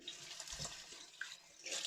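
A short splash and trickle of aftershave being poured from a bottle, close and quiet, lasting under two seconds with a couple of small liquid bursts.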